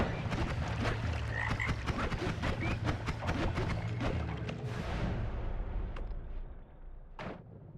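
Frogs croak in a video game, a dense busy run of clicks and bursts over a low rumble that thins out toward the end.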